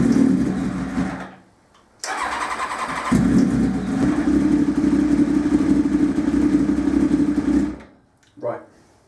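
A motorcycle engine fed by carburetors cranks, dies, then catches and runs at a steady loud idle for several seconds before cutting off, followed by a short burst of noise.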